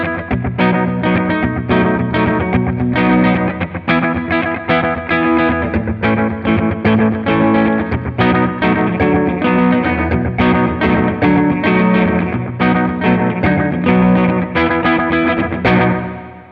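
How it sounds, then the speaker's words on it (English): Electric guitar played through a Vox Bruno amplifier with a slapback delay, a loud, steady stream of chords and notes, each one shadowed by a quick echo, with a slightly distorted edge and no talking. "To get slap back, let's get the delay level up a little bit."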